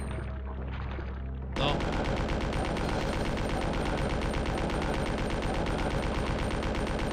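Rapid, continuous machine gun fire rattles loud and close in Resident Evil 2, starting abruptly after a quieter opening and hammering on without pause to the end.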